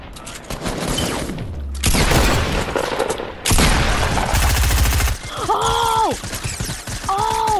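Bursts of rapid gunfire in loud clusters, followed by shouted, groaning voices crying out over the shots.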